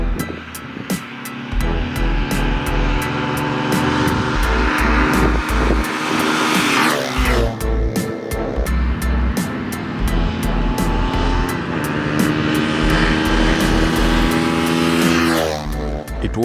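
A Yamaha DT175 dirt bike and a 200cc Haojin Warrior motorcycle race side by side, their engines droning loudly and steadily with rising and falling revs and one pass-by sweep midway, no talking.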